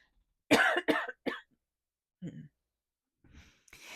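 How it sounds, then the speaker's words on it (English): Several sharp coughs burst out in a quick cluster, followed by a softer cough and some breathy noise after a pause. "Excuse me, I'm going to cough."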